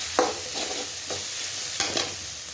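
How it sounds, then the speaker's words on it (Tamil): Ginger-garlic paste stirred and sautéed with onions in a pan for mutton gravy, with soft sizzling under a few scraping spoon strokes spaced through the moment. No voices. "இப்போ இந்த இஞ்சி பூண்டை நல்லா மிக்ஸ் பண்ணி விடுவாங்க வெங்காயத்தோட"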